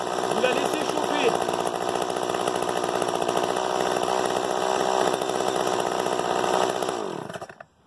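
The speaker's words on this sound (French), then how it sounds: "la tronçonneuse est démarrée, vous la laissez chauffer." A chainsaw runs continuously at a loud, buzzing idle close by after being started, warming up for several seconds before cutting off abruptly at the end.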